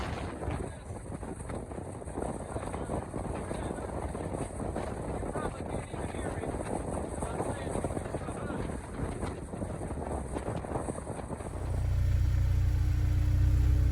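A Honda S2000 convertible drives with its VTEC engine under steady rushing wind buffeting, heard from outside the roof. A loud low engine roar takes over near the end.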